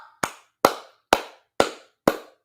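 Five sharp hand claps in a steady, evenly spaced rhythm, close and loud with no talk, celebrating a winning NQ futures trade during a live day-trading session.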